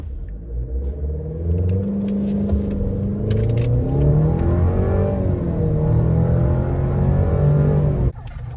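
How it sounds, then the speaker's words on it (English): A 2026 Chevy Colorado WT pickup launching hard in four-wheel drive, its engine rising in a loud, sustained rev through the gears for about eight seconds before cutting off abruptly, heard from inside the cab. "And four-wheel drive, it launches very aggressively, very hard."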